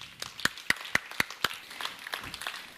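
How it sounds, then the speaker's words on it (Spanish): Church congregation applauding during a Spanish-language service: a few sharp, evenly spaced claps stand out at first, then thinner scattered clapping, modest in volume. "Dale otro fuerte aplauso a la palabra del Señor."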